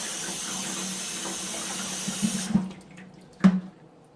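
Water running from a tap into a medicinal leech container, a steady rushing flow that stops partway through, followed by a few close splashes and knocks of the container.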